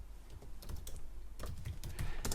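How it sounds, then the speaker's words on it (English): A computer keyboard is typed on at close range, with a quick run of light key clicks that starts, pauses briefly, and resumes in an uneven rhythm, alone and fairly quiet. "and typing in purchases."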